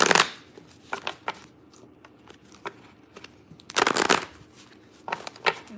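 Tarot cards being shuffled nearby: sharp riffling bursts and soft flicks come in uneven clusters, with quiet pauses between them and no talking.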